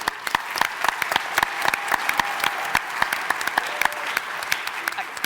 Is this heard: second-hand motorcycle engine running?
no